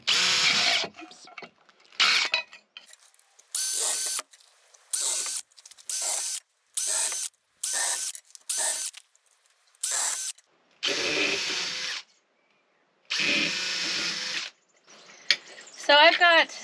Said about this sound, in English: the first thing I need to do is drill some holes